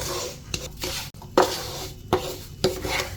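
Semolina and gram flour roasting dry in a pan for halwa, with a few distinct scrapes and knocks of a spoon against the pan over a faint crackle.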